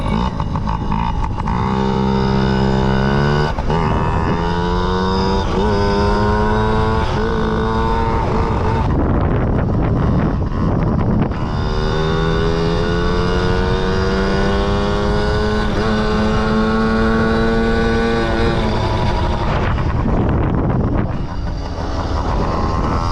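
A small Yamaha PW50 dirt bike engine drones loud and close as it is ridden, its pitch climbing steadily, dipping briefly midway, then rising again, with wind buffeting throughout.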